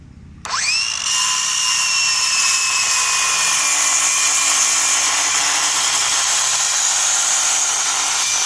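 A Craftsman V20 cordless circular saw cutting at a 45-degree bevel, its motor snapping up to a high whine, then a loud, steady, close-up cutting drone that holds to the end.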